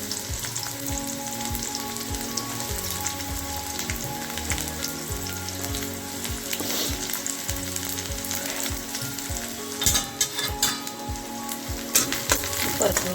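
Onion sautéing in a pan with browned homemade country garlic, a steady close sizzle running the whole time, broken by scraping stir strokes and a few sharper clatters near the end.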